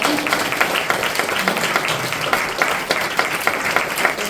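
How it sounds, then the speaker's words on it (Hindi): Audience applause at a devotional Hindi discourse, a steady wash of many hands clapping together throughout, dense and continuous at moderate loudness with no speech over it. "फिर तो ताली हो जानी चाहिए।"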